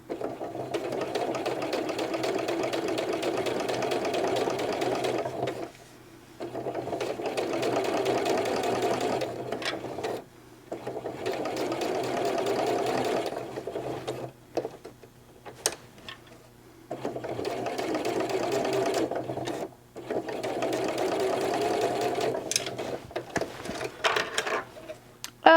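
A sewing machine stitches a centered zipper in long, steady whirring runs, close and clear, stopping briefly several times before starting again; the pauses are quiet, with no talk.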